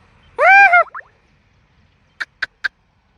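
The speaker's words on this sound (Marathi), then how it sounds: "मोर बोलावते" A peacock calls out in open farmland: one loud wailing, harmonic cry, a brief trailing note, then three short sharp yelps in quick succession, clear against a quiet background.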